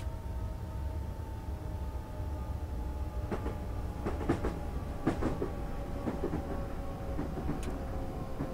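A Berlin S-Bahn electric train runs in Train Simulator 2013, a steady low rumble with a faint whine and irregular rail clicks and clacks that come and go as it travels.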